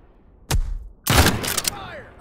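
Gunfire crackles in a military shooter video game: a short burst, then a longer, louder volley of rapid shots with ringing tails, close and punchy.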